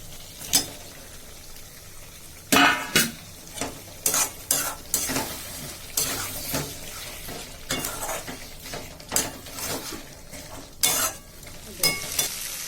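Fried potatoes stirred into a sizzling meat curry in a pan, with repeated sharp scraping and clinking of a spoon against the pot over a steady low fry, no voices.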